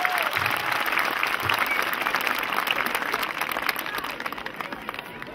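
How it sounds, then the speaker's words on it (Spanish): A crowd at a jaripeo show in San Sebastián Progreso claps in sustained applause, a continuous dense patter that fades slightly toward the end. "yo quiero escucharlo de los aplausos"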